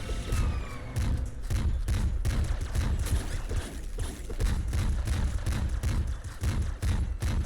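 Grenade explosions and rapid gunfire from the video game Nuclear Throne crackle densely and continuously, a steady barrage of sharp bursts and thumps with no pauses.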